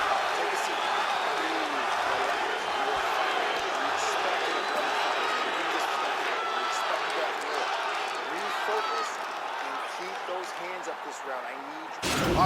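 Crowd noise from the EA Sports UFC 4 video game fills a fight between rounds, a steady, dense roar of cheering and clapping with voices running through it.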